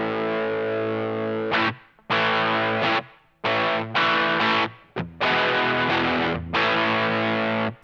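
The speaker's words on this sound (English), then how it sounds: "I'm going to pop on the gain chain from Axworks." An electric guitar plays through an Axworks Gain Chain drive pedal set to low gain, giving a gritty, lightly distorted tone. Loud strummed chords ring out and are cut off several times, with no voice heard.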